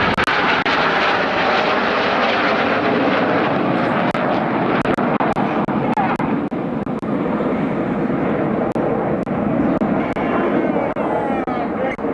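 Red Arrows synchro pair jets roar past upside down at an air display, a loud, sustained jet rumble that fills the whole stretch with faint sharp cracks on top.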